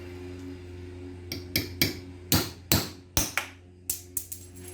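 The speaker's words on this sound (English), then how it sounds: "that took a lot of hammering and it didn't pop out" A toonie coin struck repeatedly with a hammer, sharp metallic taps close up, starting sparse and then landing in uneven clusters of a dozen or so hits over a low background hum.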